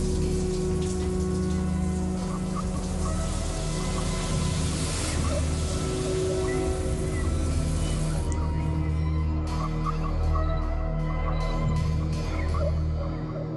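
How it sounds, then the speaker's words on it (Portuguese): Steady broadband rush of water spraying and splashing from a bathroom shower and open taps, continuous and fairly close, with a low hum underneath. "o chuveiro estava ligado e as torneiras abertas"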